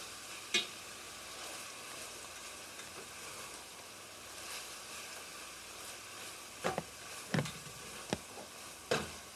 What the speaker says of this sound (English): Deglaze with Kraken.